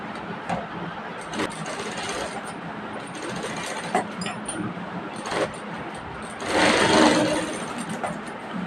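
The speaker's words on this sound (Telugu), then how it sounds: "జస్ట్ పాదం మందం క్లాత్ మీద మనము స్టిచ్ వేసుకోవాలి" A sewing machine runs steadily, stitching piping onto thick blouse cloth with a continuous rattling whir that swells louder near the end, close by with no talking.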